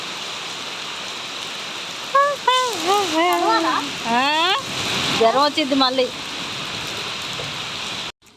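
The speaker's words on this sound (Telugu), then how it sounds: "2 o'clock నుంచి అయితే వర్షం స్టార్ట్ అయిపోయింది" Steady afternoon rain makes a continuous soft wash of noise in the background while a person speaks over it for several seconds.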